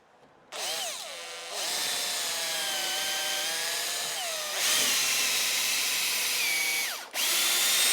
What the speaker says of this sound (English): I basically drill a guide hole.